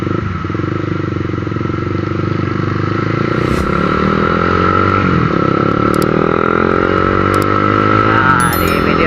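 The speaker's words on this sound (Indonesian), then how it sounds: "di motor CBR 150 RCBU yang sudah gua pakai selama 11 tahun sih buat harian" A Honda CBR 150R CBU motorcycle, ridden daily for eleven years, drones steadily from the rider's position, its engine note rising and falling through gear changes, with road noise throughout.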